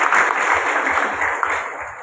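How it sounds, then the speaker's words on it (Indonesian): Audience applause at a government gathering in Cilacap, a steady dense roomful of clapping that stays fairly loud throughout the short stretch, with no voices clearly standing out. "Tepuk tangan dulu untuk Cilacap."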